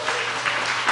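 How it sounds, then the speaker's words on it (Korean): A church congregation at a Sunday service clapping together in a brief burst of dense, steady applause that fills the room. "박수 한번 치시고"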